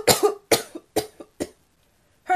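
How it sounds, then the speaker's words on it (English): A young newsboy character coughs in an audio drama, four harsh throaty coughs in an even rhythm, close and loud, followed by a short pause and the start of another. "cough more from the throat"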